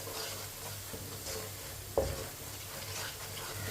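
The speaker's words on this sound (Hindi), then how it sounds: "कम आंच पे मसालों को पकाना है" Spices for sarson ka saag fry gently over a low flame, giving a soft, even sizzle with faint stirring and one light clink of a utensil against the pan.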